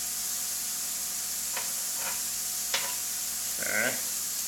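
Bread fries in a pan after being flipped, giving a steady hiss with a few short scrapes of a spatula and a brief louder clatter near the end.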